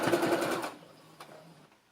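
A sewing machine stitching a sleeve seam on a baby frock gives a close, fast burst of needle clatter that stops after under a second, followed by quiet handling noise and a soft tap.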